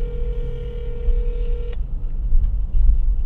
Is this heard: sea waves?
no